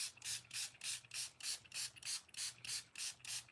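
A spray bottle pumped in a quick, regular rhythm, about a dozen short hissing bursts of mist in a row, close and fairly quiet.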